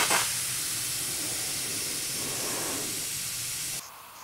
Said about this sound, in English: There's still some air coming out